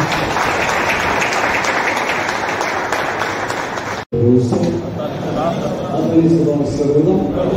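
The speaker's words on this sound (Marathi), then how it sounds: "तर आपण जोरदार टाळ्यामध्ये त्यांचं स्वागत करूया" An audience at a charismatic prayer meeting claps to welcome Father Baptist, a sustained crowd applause that breaks off sharply, then resumes mixed with voices and talk.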